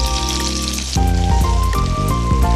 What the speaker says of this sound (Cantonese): 煎到個魚嗰度咧，輕輕微黃就得噶啦。